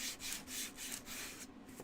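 Wood being hand-sanded for a DIY pair of spring overalls, with a steady, close scratchy rubbing in repeated strokes that briefly pauses near the end.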